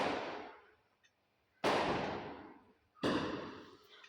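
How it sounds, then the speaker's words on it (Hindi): Three loud firecrackers go off outside about a second and a half apart, each a sharp bang followed by a long fading echo. "पटाखे की आवाज़ बहुत ही ज़्यादा आ रही है"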